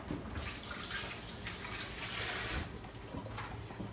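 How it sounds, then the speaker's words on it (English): Kitchen tap runs steadily into a sink while hands are rinsed during salad preparation, a close, soft hiss of flowing water with slight splashing changes, no talk. "I'm gonna rinse my hands."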